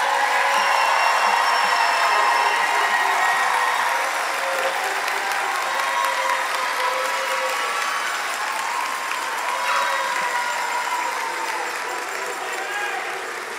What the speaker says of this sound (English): now one big round of applause for all of these graduates.